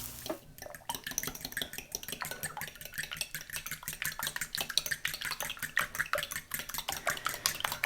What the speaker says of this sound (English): I'm just going to whisk my eggs really good